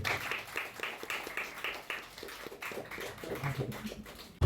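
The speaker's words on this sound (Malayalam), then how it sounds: "ഒന്ന് കൈയടിച്ച് സപ്പോർട്ട് ചെയ്യും." An audience claps in support of an actor receiving an award, a steady patter of hand claps running through the clip, fairly close and moderately loud with some background murmur.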